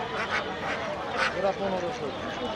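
Ducks quack in short bursts at a busy weekly market, several calls close by and overlapping, with people talking alongside them.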